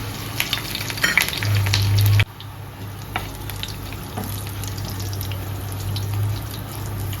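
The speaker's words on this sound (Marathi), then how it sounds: "सो आता इथे आपण लसूण टाकून घेऊयात आणि जिरं आणि हे कढीपत्ता" Garlic, cumin seeds and curry leaves crackle and sizzle in hot oil in a home kitchen, a loud close spatter that drops sharply after a couple of seconds and settles into a softer steady frying hiss with a low hum underneath.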